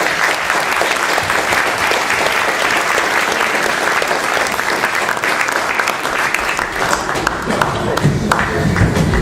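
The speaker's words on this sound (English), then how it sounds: "You can give this lady a round of applause." A magic show audience gives a loud, dense round of applause for a volunteer woman, continuous heavy clapping filling the room with a faint voice underneath.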